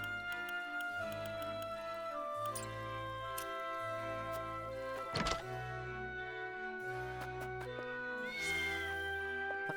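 A cat meows in the video game Triangle Strategy, a few short calls set against steady background music with a brief thud midway.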